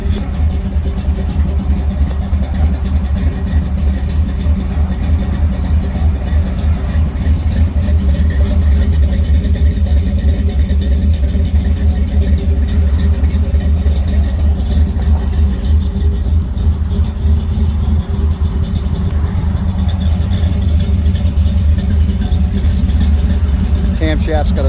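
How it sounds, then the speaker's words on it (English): A 1955 Ford F-100 hot rod engine idles steadily, its camshaft giving a loud, close, lopey low rumble that carries on without a break. "Camshaft's got a nice little rumble to it. Good idle."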